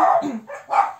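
Dogs bark indoors nearby in three quick, loud barks, with no talk over them.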